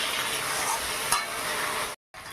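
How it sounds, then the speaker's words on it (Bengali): Turmeric powder and salt frying in a pan while being stirred, a constant close sizzle with a brief scrape near the middle and a short gap near the end. "সামান্য পরিমাণ দিল হলুদ গুঁড়ো একটু লাল লাল করে হালকা করে ভেজে নিই"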